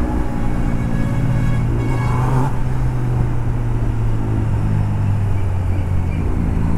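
A Kawasaki Z900 motorbike ridden through city traffic: a loud, steady engine drone with a rising whine as it pulls, and road noise all around, without speech.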